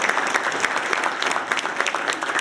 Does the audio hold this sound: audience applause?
yes